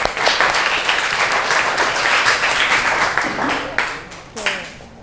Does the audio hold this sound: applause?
yes